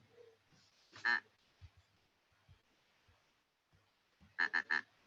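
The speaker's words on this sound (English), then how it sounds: "Can you hear it quacking, or is it just me?" A duck quacks twice, first a single faint quack and later a quick cluster of three quacks, with quiet background and no speech.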